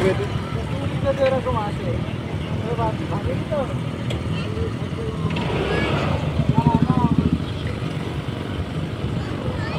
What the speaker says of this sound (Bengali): আমরা বোটে উঠে গেছি, তো বোট ছেড়ে দিয়েছে